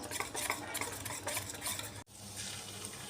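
Dahi vada batter seasoned with cumin powder and salt is beaten by stirring clockwise, a steady, close wet churning with rhythmic swishing strokes and a brief break near the end.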